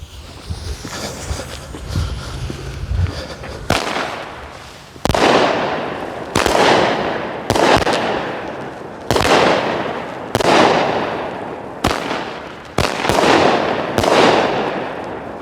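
A Supreme Fireworks Shockers mini cake firing outdoors, a crackling start followed by a series of about nine loud, evenly spaced booming shots, each trailing off in a hissing decay, with no talk.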